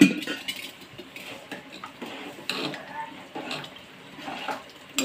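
Water is poured into a cooking pot of boiled radish, ridge gourd and toor dal for a North Karnataka drumstick saaru, a soft splashing stream mixed with light metallic clinks of utensils, fairly quiet and close.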